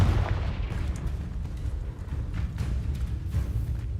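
A fiery blast from the Confringo spell in the Hogwarts Legacy game, a sustained low rumbling roar that holds steady and loud for several seconds, with no voices over it.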